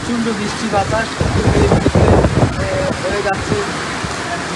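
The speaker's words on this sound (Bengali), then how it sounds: "প্রচণ্ড বৃষ্টি" Heavy rain and wind batter a river ferry ghat during a storm, producing a loud, rough wash of noise with gusty buffeting against the microphone, while someone speaks briefly over it.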